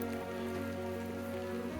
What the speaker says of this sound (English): Then it started to rain pretty hard for the last 6 kilometers of our hike.